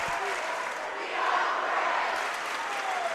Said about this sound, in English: Mt Vernon fans standing up cheering,